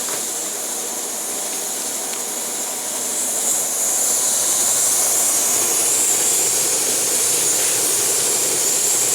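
Two MSR Whisperlite camping stoves roar steadily as they bring water to a boil, a continuous broadband hiss that swells a little louder partway through and holds, with no talk.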